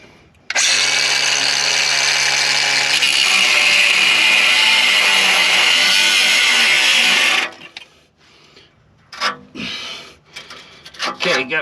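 Power tool cutting through an old, rusted exhaust pipe under a 1968 Ford Thunderbird with a 429 Thunderjet big block, a loud steady grinding rasp for about seven seconds, then stopping, followed by quieter clanks and handling noises.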